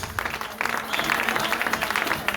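Church congregation applauding at a worship service, a steady wash of clapping that rises after a brief start and holds at moderate loudness, with no talk over it.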